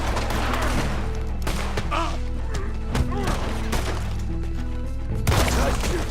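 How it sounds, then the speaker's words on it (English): Gunfire in Red Dead Redemption 2, a rapid string of sharp shots and thuds in a game shootout, loud and close, set against a dense low drone from the game's soundtrack. "Nice shooting, Arthur."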